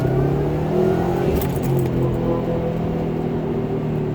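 Subaru WRX STI (2010) with an OBX Racing catback exhaust cruising at about 3,000 RPM on part throttle, a steady low droning exhaust rumble with engine hum throughout, no talking.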